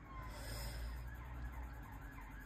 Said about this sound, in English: I think it was a police car, that one, actually.